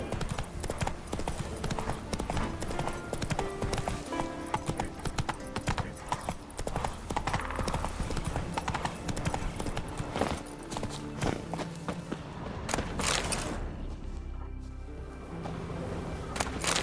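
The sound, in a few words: horse hooves galloping in Witcher 3 video game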